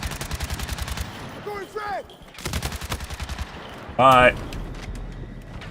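Rapid gunfire from Battlefield 6 rattles in repeated bursts, with distant shots, some whistling effects and one loud spray near the end, heard under someone talking.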